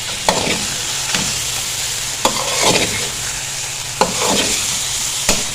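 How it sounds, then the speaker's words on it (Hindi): Chicken is stirred with spice paste in a pot over a continuous loud sizzle, with clear spoon scrapes and clinks about every second or two, and no talking. "और अब हम इसको अच्छे से मिक्स कर लेंगे।"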